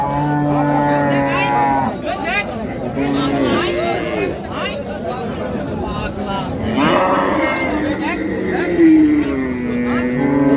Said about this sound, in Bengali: জাহাবি বাছুর আমরা দেখছিলাম এখানে